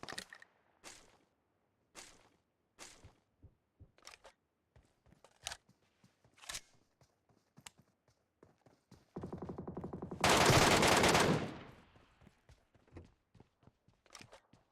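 MK rifle fire in the PUBG video game, sharp single shots spaced out irregularly, then a brief loud burst of rapid fire near the end, with no talking.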